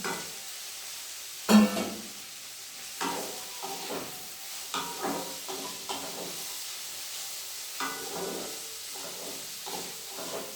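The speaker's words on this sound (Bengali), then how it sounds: "এই পর্যায়ে আমি কাজু কিশমিশটা দিয়ে দিচ্ছি।" Cashews and raisins are stirred into rice frying in a pan, making a soft hiss and sizzle broken by repeated scraping strokes of a spatula, one sharp clank near the start.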